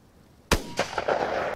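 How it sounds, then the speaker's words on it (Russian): A single shotgun blast from an MP-155 fitted with a choke, firing a 36 g load outdoors, cracks sharply after a moment of quiet, then a rolling echo trails off for about a second. "сейчас один раз стрельнем на полтинник"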